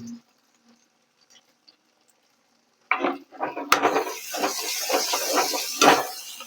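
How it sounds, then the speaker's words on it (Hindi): A quiet stretch, then a sudden loud sizzle as onions drop into smoking hot oil for a tempering, followed by steady crackling and spitting close by. "देखो तेल बहुत ज्यादा हो गया, धुआं उठ रहा है। अब डालेंगे इसमें प्याज।"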